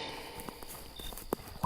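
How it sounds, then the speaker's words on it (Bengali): Soft footsteps approach from just outside a garden at night, a few faint, irregular steps in an otherwise quiet setting. "হঠাৎ বাগানের বাইরে থেকে মৃদু পায়ের শব্দ ভেসে আসে।"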